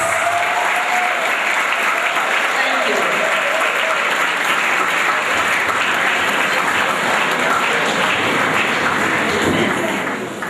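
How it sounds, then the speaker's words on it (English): A crowd in a hall at a medical and dental induction ceremony claps loudly and continuously, a dense, steady wash of applause that carries on for about ten seconds before easing slightly at the end. "give all of them another round of applause, please?"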